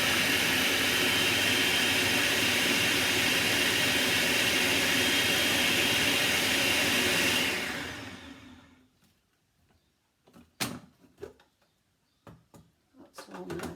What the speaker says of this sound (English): you mix it all up in your food processor.